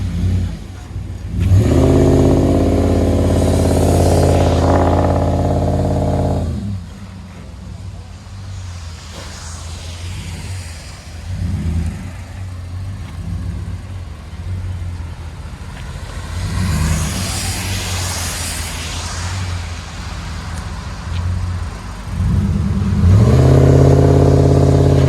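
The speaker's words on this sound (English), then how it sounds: "He says he's gonna burn some wheels." A RAM 1500 truck with a 5.7 HEMI engine revving hard for a burnout: loud sustained engine roars open and close the stretch, with a quieter rumbling idle between them.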